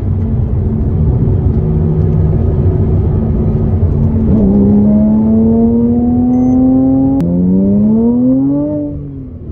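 A tuned Porsche Cayman S engine, close and loud, idles and then climbs through two rising revs, its pitch sweeping upward before easing off.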